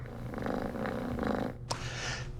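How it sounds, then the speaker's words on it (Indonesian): A kitten purrs in a steady rumbling drone, close and continuous, broken by a brief rustle or snort near the end. "Sekarang suara mendengkur."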